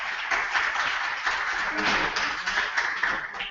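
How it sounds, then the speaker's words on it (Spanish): Audience applause at a summer school session of talks on free software, a steady wash of clapping from a crowd for about three and a half seconds with no clear pauses. "Un aplauso para Chema, de República de Quack FM"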